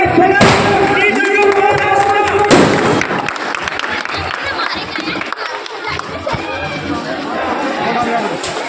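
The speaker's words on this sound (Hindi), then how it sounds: "एक बार जोरदार तालियों से डॉक्टर जितेंद्र रावत साहब का स्वागत कीजिए" A crowd at a political gathering breaks into loud applause and cheering to welcome a speaker, a dense burst of clapping with thumps and shouts up front, then continuing crowd noise and chatter under a voice.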